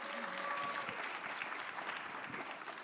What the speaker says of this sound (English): Big round of applause to Carol Johnson